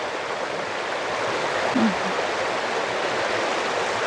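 A stream flows in a steady, dense rush of water that fills the whole scene at an even level, with one faint brief gurgle midway and no voices.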